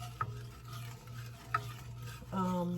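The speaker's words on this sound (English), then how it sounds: "So we're going to stir it until it gets golden brown" A spoon stirs a vanilla mixture in a pot on a stovetop burner, with faint scraping and a low steady hum, two small clicks of the utensil and a brief voice at the end.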